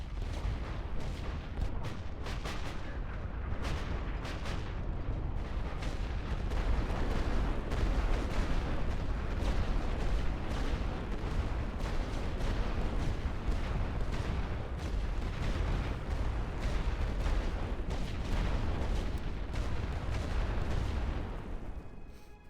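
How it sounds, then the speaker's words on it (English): A World War I artillery barrage rumbles and booms continuously in a Western Front video game, dense overlapping gunfire and explosions pounding loudly without pause for over twenty seconds. "Ready full barrage."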